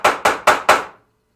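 A hammer strikes a pinball machine playfield four times in quick, even succession, each blow a sharp, close, loud knock, followed by silence.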